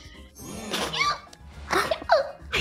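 A single sneeze bursts out during a lively online card game of Uno among friends, sharp and close, followed by a second short burst, with light laughter and voices around it.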